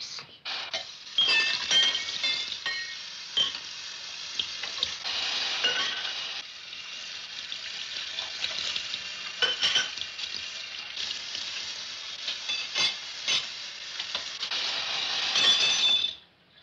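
Dishes being washed at a home kitchen sink: a steady hiss of running water with scattered clinks and clatters of plates and glasses, close and continuous, no voices.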